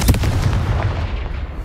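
A Confringo blasting spell goes off in a Hogwarts-style video game: a loud, continuous burst of booming, crackling fire lasting under two seconds, dense and up close without pause, with no talk over it.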